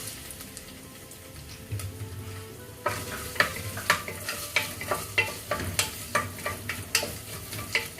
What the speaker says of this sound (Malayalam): ഓയിൽ ചൂടായ ശേഷം അതിലേക്ക് തേങ്ങാക്കൊത്തിട്ട് കൊടുക്കാം